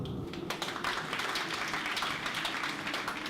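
Audience applause at a live stage performance, a dense, steady wash of many hands clapping throughout, moderately distant and without speech.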